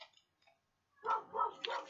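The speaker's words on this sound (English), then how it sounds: "my dog barking at the neighbors" A dog barks a few quick times nearby, short sharp yaps after a moment of near silence, fairly quiet overall.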